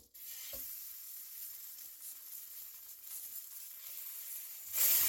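Veal shanks sear in a hot pan with a continuous, close sizzling hiss that swells louder at the very end.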